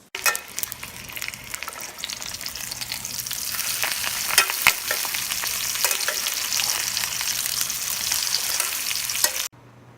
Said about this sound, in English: We just finished frying up our chicken breasts.